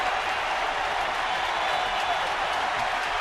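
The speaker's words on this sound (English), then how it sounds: "The crowd rises." Baseball crowd applauding at a Washington at San Francisco game, a steady wash of clapping and cheering from a large stadium audience with no talk over it.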